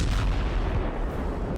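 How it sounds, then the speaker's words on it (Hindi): Artillery fire and explosions in the Gaza Strip make a dense, continuous booming roar, loud and close, with no clear gaps or voices. "भयानक धमाके हो रहे हैं।"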